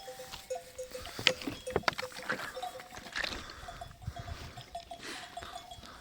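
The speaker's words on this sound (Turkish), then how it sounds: "Koyunlar bir şey vereceğiz zannettiler de." Sheep bleat beside a stone fountain in a cool resting spot. Several short, wavering bleats come at irregular intervals over soft background rustling and faint knocks.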